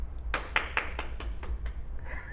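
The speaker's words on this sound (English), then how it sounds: "Can we give her a round of applause, please?" Applause for a guest poet from a small group, heard as about eight sharp, evenly spaced claps that fade toward the end over a low background hum.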